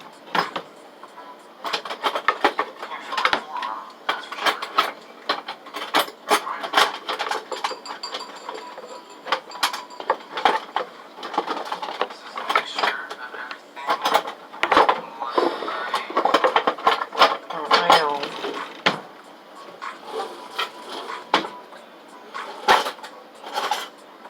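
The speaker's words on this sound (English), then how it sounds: "I think those are all pots and pans in here." Pots and pans clatter and clank in a kitchen cupboard during a search for a whisk while making French toast, a busy run of close metallic knocks and scrapes with a little quiet talk between them.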